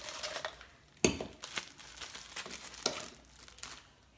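Frozen strawberries tumbling out of a plastic bag, with crinkling plastic and a few sharp clattering knocks as the hard frozen fruit drops and settles.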